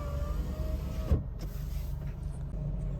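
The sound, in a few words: Renault Wind electric windows moving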